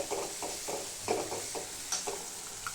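Spice powder and tomato fry in oil while being stirred, giving a soft steady sizzle with repeated scraping strokes of the spoon, close and fairly quiet.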